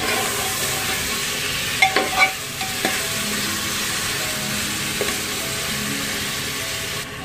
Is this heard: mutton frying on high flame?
yes